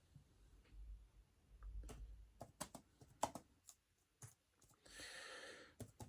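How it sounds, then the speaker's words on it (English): Irregular clicks and taps of typing on a computer keyboard, quiet and close, in short bursts with pauses and a brief soft breathy noise. "if you hear me typing in the background"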